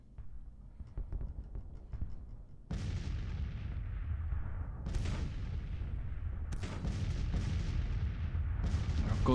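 Artillery in Grand Tactician: The Civil War, 1862, booming in repeated deep blasts that start after a quieter stretch of distant rumbling, then roll on loud and overlapping under continuous battle noise.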